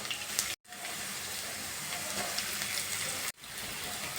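Chopped garlic and ginger with mustard seeds frying in oil for a gooseberry pickle, a loud, continuous hissing sizzle cut by two brief silent gaps.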